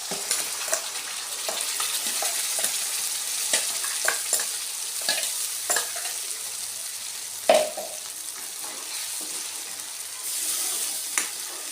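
Onion and a prepared paste for paneer masala fry in hot oil, a continuous close sizzle broken by frequent scraping stirs and one sharp clack, with no voices.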